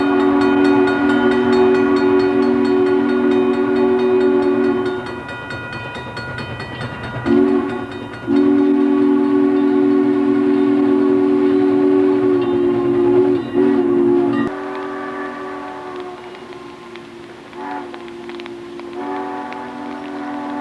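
Frisco steam locomotive 1522 hauls a train close by east of Belleville, its loud sustained whistle sounding in long blasts over the heavy rumble and chuff of the engine.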